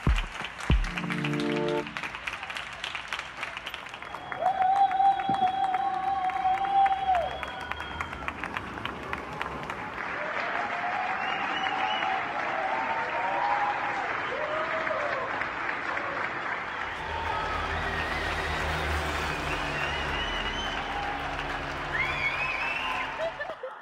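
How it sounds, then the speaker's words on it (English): Spanish residents under lockdown applaud healthcare workers from their open windows, a long, sustained spread of clapping from many households with tonal calls, whistles and scattered voices mixed in. "residents in Spain under lockdown scheduled a time to throw open their windows and celebrate their healthcare workers"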